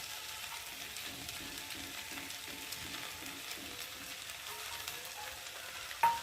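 Chili chicken Maggi noodles stirred in a pan, a steady low sizzle with soft scraping throughout and a sharp clink near the end; no voices.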